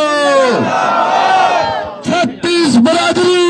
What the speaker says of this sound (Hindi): दोनों हाथ उठा करके एक जयकारा देंगे